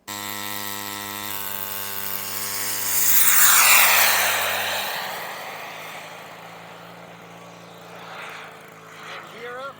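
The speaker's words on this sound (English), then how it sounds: "the plane should slow down just fine, and I think it's going to be a good landing" A small airplane on landing approach drones with a steady propeller engine tone that swells to a loud peak as it passes close, then drops in pitch and fades, with a voice speaking briefly near the end.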